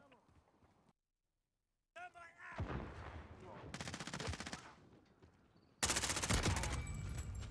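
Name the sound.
gunfire in the video game Call of Duty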